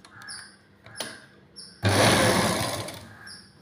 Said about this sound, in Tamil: இந்த ஓரத்துல தையல் போடணும்